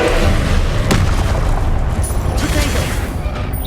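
Incendio fire spell cast in the video game Hogwarts Legacy: a loud, dense roaring burst with a sharp crack near the start, then a sustained rumbling whoosh that slowly tapers off.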